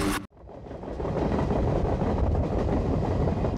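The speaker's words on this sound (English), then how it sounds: "The bright blue and yellow engines chugging along the Alaska rail line" Blue and yellow Alaska Railroad engines run along the rail line, a brief cut giving way to a steady, close rumble of wheels and rolling stock that holds loud and even throughout, with no voices.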